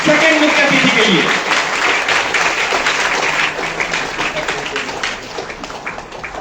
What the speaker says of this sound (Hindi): एक बार फिर से जोरदार तालियां हमारे आज के सेकंड मुख्य अतिथि के लिए